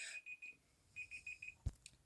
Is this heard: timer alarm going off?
yes